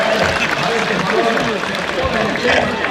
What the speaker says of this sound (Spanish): Y el aplauso, Tamazulapan, Oaxaca. Fuerte el aplauso.